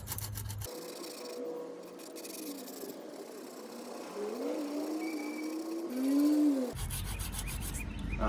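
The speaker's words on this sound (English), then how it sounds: "Never thought I'd be sanding a wheel. It's a terrible noise." Sanding a curb-rashed wheel on a Corvette C5, a faint rasping rub with rising and falling squeal tones between louder bursts of noise at the start and end.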